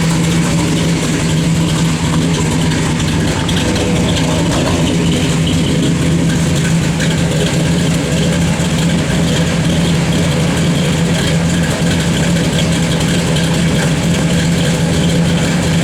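The engine of a 1955 Chevrolet 3100 pickup idles steadily throughout, a deep rumbling drone with a faint mechanical whine, close and loud, no voices.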